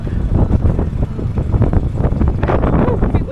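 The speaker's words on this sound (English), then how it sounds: "Oh, a bit windy up here too." Gusty wind buffets the microphone high on a Llangollen canal aqueduct, a loud rumbling roar that rises and falls throughout.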